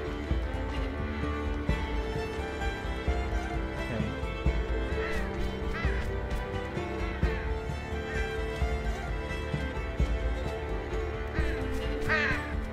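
Crow-like cawing from birds in the video game Unravel, repeated harsh calls over a dense, steady game soundtrack.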